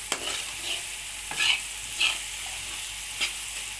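Roasted eggplant bharta stirred in a hot pan, giving a steady frying hiss with several distinct scraping strokes spaced a second or so apart.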